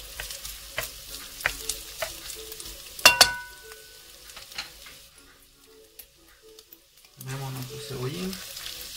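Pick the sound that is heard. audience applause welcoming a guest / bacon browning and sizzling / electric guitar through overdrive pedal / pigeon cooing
bacon browning and sizzling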